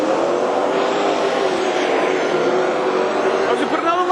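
AMCA Nationals race cars roar around Carina Speedway in a final, a dense, steady engine drone from several cars at once, loud and continuous, with a commentator talking over it.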